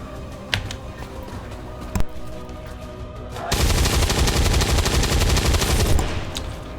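Rapid automatic gunfire firing tracer rounds in the XCOM 2 War of the Chosen strategy game, with a few sharp single shots early on and then a dense, sustained burst of loud machine-gun fire lasting several seconds.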